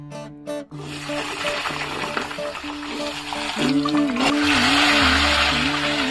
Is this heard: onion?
yes